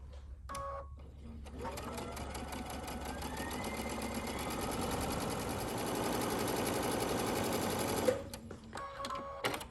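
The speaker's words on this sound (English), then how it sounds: "I'm simply going to sew 1/4 inch down each long outside edge." A sewing machine stitches a 1/4 inch seam down the long outside edge of two fabrics placed right sides together. It runs in a steady, close, continuous whir for about six seconds, then stops, with light handling sounds before and after.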